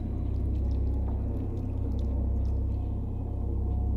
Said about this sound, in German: Jetzt tropft das auch noch.